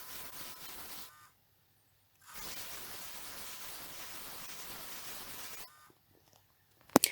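A wooden mallet head is sanded, grits running from coarse to very fine, giving close, hissing bursts of friction noise, a short one, then a pause, then a longer steady stretch, ending with a few faint knocks.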